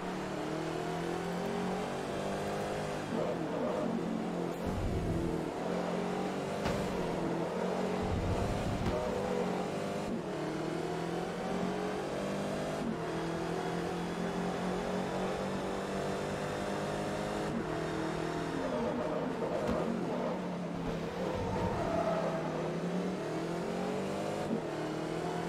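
Race car engines roar continuously through a Forza Motorsport 3 race at Twin Ring Motegi circuit, with a Nissan GT-R overtaking, the revs rising and falling with repeated gear shifts and close passing engine noise throughout.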